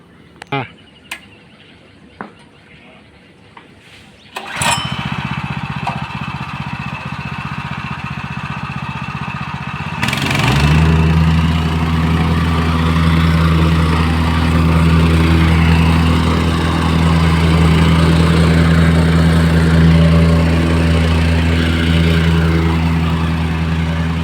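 A 90 kg machine whose striking part weighs 1.5 tons is cranked and then starts, a few knocks giving way to a loud steady engine drone that grows heavier and keeps running close by.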